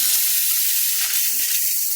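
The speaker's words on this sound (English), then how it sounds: "you first grab your steam cleaner, you give it a few squirts outside of the car" A steam cleaner's hose squirts steam in a continuous loud, breathy hiss that holds steady from start to finish, with no talking, while interior car plastic trim is being detailed.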